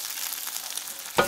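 Eggs sizzle steadily in a frying pan while being scrambled for a keto breakfast wrap, a continuous close crackle ending with a scrape of the spatula.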